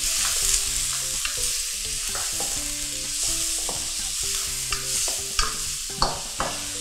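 Squid and shrimp stir-frying in a hot wok with garlic and onion, a steady close sizzle under busy scraping and tossing, with a few sharper clanks of the spatula near the end.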